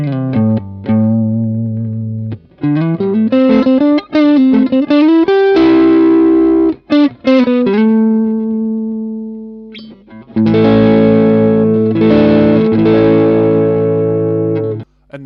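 An electric guitar plays through a Fender Super 60 amp with the gain at about 4, giving mildly overdriven chords and sustained single notes, broken by brief pauses and ending in a thick, ringing strummed passage.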